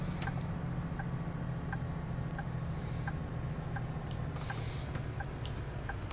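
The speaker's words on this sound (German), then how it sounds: "Der surrt so vor sich hin, der Bus." A natural gas bus in a Bus Simulator game hums steadily along, a constant low drone with a faint regular ticking running through it and no voices.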